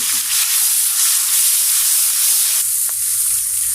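A paste of ginger, garlic, onion and cumin fries together in hot oil, giving a loud, continuous hissing sizzle that holds steady with no voices.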